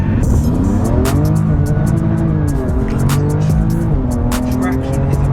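A BMW M4 CS with a stage 1 tune launches hard from a standstill, engine roaring close and loud as it climbs through quick gear changes, with tire chirps and a voice talking over it.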